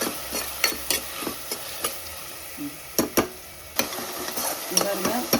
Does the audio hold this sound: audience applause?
no